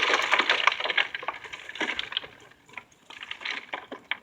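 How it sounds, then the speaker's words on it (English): Lumps of homemade charcoal gasifier fuel clatter and rustle as about five gallons are handled out of a barrel, a close run of dry woody crunches and scrapes in bursts with short pauses. "Five gallons of charcoal"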